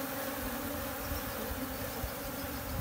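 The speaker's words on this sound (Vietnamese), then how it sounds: "Ra ong quá trời ong luôn bạn ơi." A swarm of honey bees pours out while being gathered onto a hat in Phú Yên, Vietnam, making a dense, continuous droning buzz close by, steady in loudness, with no talking.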